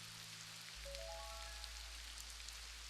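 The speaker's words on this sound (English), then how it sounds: "Rain sounds nice too." Rain in the video game Mortal Online 2, a steady soft hiss of falling rain continuing throughout with no talking, over a low hum.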